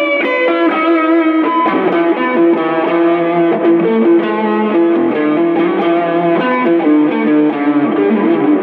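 Electric guitar played through an Albion AG-series hybrid amp, with single-note distorted lines carrying a light delay and reverb tail, loud and continuous with no talking.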